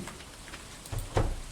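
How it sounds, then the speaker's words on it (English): Steady rain in the farming game Stardew Valley, a soft continuous hiss of falling drops with a couple of brief louder low thumps near the end. "Also, Robin is working in the rain."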